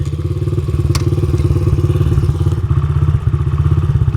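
A dirt bike engine idles steadily after an air screw adjustment, a loud, close, even thumping beat with a light metallic clatter running throughout.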